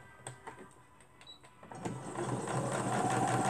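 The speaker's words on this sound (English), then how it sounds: "And I'm going to sew it this way." Hand-sewing a homemade wallet, with a needle and thread pulled through the material in soft, uneven scratching and rustling strokes up close, growing louder and denser toward the end.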